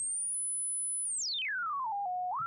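Sine tone from a Pure Data oscillator swept by a slider: a lone pure whistle holds very high, then glides steadily down to a lower steady pitch before rising slightly at the end, clean and alone.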